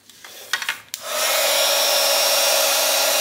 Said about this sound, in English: And then grab your heat tool.